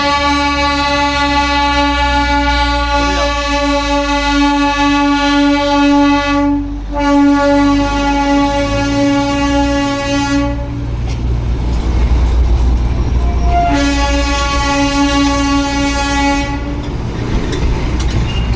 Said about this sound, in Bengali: এইবার সামনে থেকে একটা টয় ট্রেনে ভিডিও করে নিই